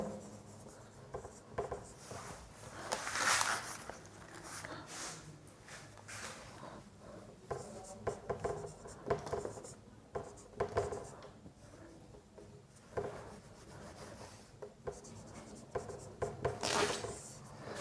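Pen writing out notes on paper for a lesson on plant tissues, with steady scratching strokes, pauses and page rubbing close by, and no talk.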